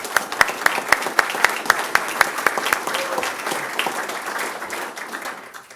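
Children in the front row clapping at a fire district board meeting, a brisk steady run of individual hand claps that loosens and fades out, with soft room murmur beneath.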